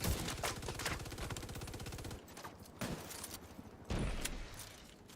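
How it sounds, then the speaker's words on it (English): Rapid automatic gunfire from the video game The Division rattles in a fast, sustained burst, followed by a few separate heavier shots, all fairly faint in the mix. "so I can shoot the guy that's sniping us"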